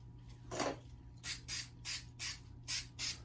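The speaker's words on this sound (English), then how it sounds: "let's start spraying the perimeter" One short hiss, then six quick bursts from a spray adhesive can around the perimeter of a car door panel, in a steady rhythm, each a sharp close hiss separated by brief pauses.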